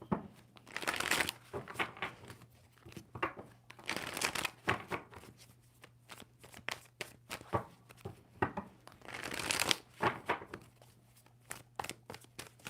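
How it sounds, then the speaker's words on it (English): Tarot cards are shuffled in several brisk riffling bursts separated by quieter pauses, close and crisp, with faint handling noises between. "Two more shuffles."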